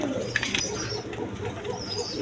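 A pair of Rajgolla pigeons gives soft, low cooing over a noisy background hiss, a brief murmur that stays fairly faint throughout.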